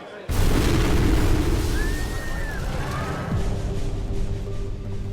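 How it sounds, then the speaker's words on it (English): A bomb detonates at a crowded outdoor Olympic event, a sudden loud blast that starts abruptly and leaves a sustained roar and rumbling noise for several seconds after it. "But it had barely begun before the bomb detonated."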